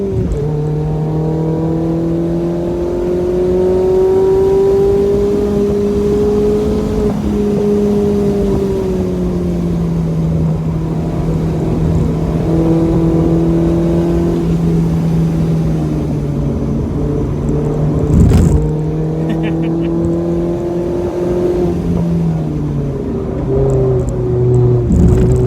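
A lightly modified Mazda ND Miata lapping Atlanta Motorsports Park, its engine droning steadily with rising and falling pitch through gear changes, loud and continuous with no talk.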